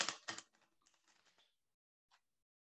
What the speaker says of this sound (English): Was that an honest shuffle?